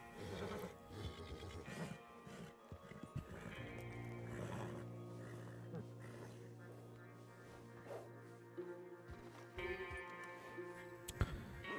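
A horse in a video game whinnies several times, faint and layered with other game sounds and ticking ambience, and no talk is heard.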